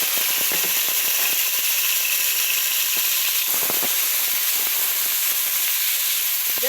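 Shrimp frying in a little oil in a dark pan, a steady close sizzle with scattered sharp crackles and pops throughout.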